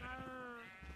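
Sheep bleating inside a video game, a single sustained, wavering bleat that sounds close and clear with no talking over it.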